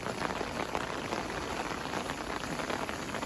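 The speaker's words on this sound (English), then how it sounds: "it's nice just to have a bit of rain now" Steady rain pours down at a carp fishing lake under a dark cloud after a hot week, a dense, even hiss of drops hitting water and surfaces filling the whole stretch with no voices.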